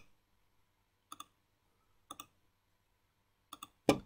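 A computer mouse button clicks in close, crisp pairs, three quick double clicks spaced about a second apart in a quiet room, then one louder single click at the end.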